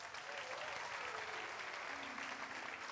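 Soft applause from a Sunday church congregation in a Portuguese-language service, a continuous even patter of clapping heard at a distance, with a faint voice murmuring beneath it.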